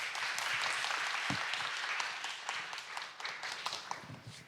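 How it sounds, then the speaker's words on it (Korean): Applause from the audience at a Korean public-safety research meeting, a few seconds of steady, fairly faint clapping that tapers off at the end. "또 큰 박수로 맞이해 주시기 바랍니다."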